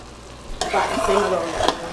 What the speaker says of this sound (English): once you have it boiling, you have to move it around a little bit because you don't want it to get stuck to the bottom of the pan